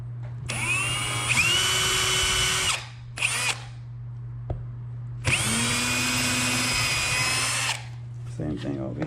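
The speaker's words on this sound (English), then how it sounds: "And then drill it." A power drill bores holes for mounting window blinds, two long loud whirring bursts with short spin-ups and stops between them, close by over a steady background hum.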